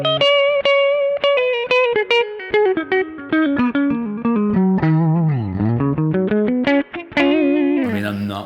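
Cort Source CR semi-hollow electric guitar playing a lead line through distortion and effects, loud and close, with fast picked notes, bends and a sliding run, ending on a held note.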